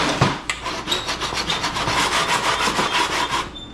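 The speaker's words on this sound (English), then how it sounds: "Kind of rub the paint off to get some ground." Paint being rubbed off the metal of a 1936 Ford Roadster to make a welding ground: a loud, close, steady back-and-forth scraping in a fast regular rhythm, alone.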